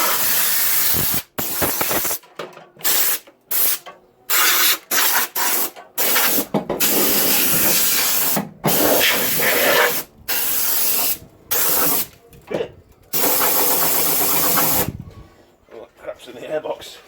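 Compressed air line blowing in repeated loud hissing bursts with short pauses between, close by, during a Ford Cortina restoration in a workshop.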